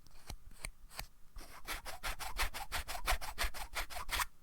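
A sharp-edged plastic Warhammer Colour paint handle rubbed across the palm of a hand, producing a run of close, scratchy rasping strokes, a few spaced ones at first and then a faster steady series.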